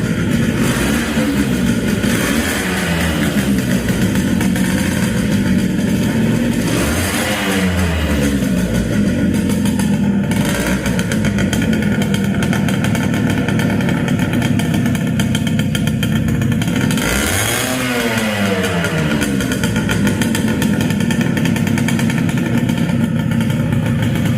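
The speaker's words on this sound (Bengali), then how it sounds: "আপনারা দেখতে পাচ্ছেন গাড়িটা এখনো স্টারে আছে" An old Yamaha motorcycle engine runs close by at a loud, steady idle, with a few brief throttle revs swelling and falling back at intervals.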